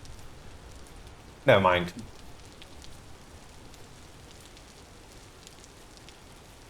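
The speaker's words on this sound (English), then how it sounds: "That's some heavy rain. Not the game, but you know." Heavy rain falls steadily as a constant broadband hiss throughout, with a brief spoken interjection cutting in near the start.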